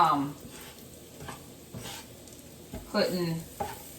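Potatoes warming through in an oiled frying pan, a soft sizzle under occasional stirring scrapes, with someone talking nearby.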